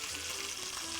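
Food frying in a pan gives a steady, close hiss and sizzle, with faint crackling throughout this short moment.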